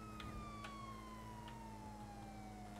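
Police car siren in the GTA V FiveM game, a steady electronic tone sliding slowly downward, with a low engine-like hum beneath and a few brief clicks, with no talking.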